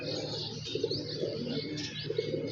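Pigeons coo softly in low repeated phrases against a steady background hiss, with faint chirps overhead.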